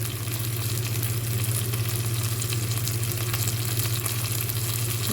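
Dried red chilies fry in hot oil with curry leaves for a drumstick leaf dish, giving a constant, even, close sizzling hiss with a low steady hum beneath and no voices.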